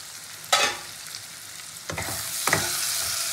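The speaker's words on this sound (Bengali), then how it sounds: "আলুটা তো বেশ ভালো ভাজাও হয়ে গেছে তেলের সাথে।" Potatoes frying in oil in a pan while a vegetable dish is cooked, with a steady hiss of sizzling and three sharp bursts as the pieces are stirred and turned.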